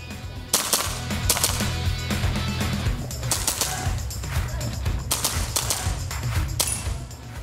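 Repeated sharp gunfire at a sport shooting range, shots cracking out in uneven bursts over steady low background rumble, with faint voices at times.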